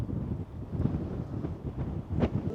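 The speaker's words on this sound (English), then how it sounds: "Of course, it's blooming windy out here." Strong wind buffets the microphone outdoors beside a 4x4 campervan, a steady low rumbling roar with gusty swells that never lets up.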